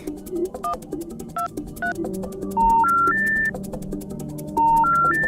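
A phone keypad dialed as a sound effect in a Bengali horror audio drama, with a run of distinct electronic tones, short beeps at first, then longer stepped tones rising in pitch, clear and fairly loud over a faint ambient bed.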